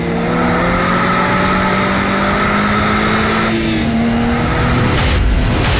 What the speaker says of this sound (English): The straight is, alas, just a drag race, and the F30 winds up pulling back ahead.